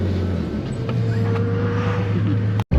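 A turbocharged Nissan 350Z with a built engine and an exhaust leak, heard from inside as a steady, droning engine hum with a low exhaust tone, which cuts out abruptly near the end.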